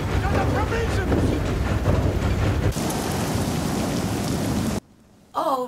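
A storm from The Lighthouse film: heavy rain pours steadily while deep thunder rumbles, loud and close throughout. It cuts off abruptly near the end, and a voice briefly follows.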